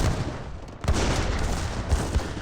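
Heavy cannons firing in Age of Empires 3: Definitive Edition, a dense barrage of booming blasts and gunfire rolling continuously with several louder impacts.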